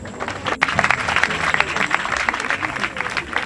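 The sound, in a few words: audience applauding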